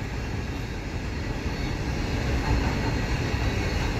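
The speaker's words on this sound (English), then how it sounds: "this is a westbound CP train with three locomotives on it" A westbound CP freight train with three locomotives rumbles steadily past, a broad low roar and rattle of wheels that swells slightly midway and fills the whole stretch.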